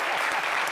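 A crowd applauds a rapper, a brief burst of dense, steady clapping close by.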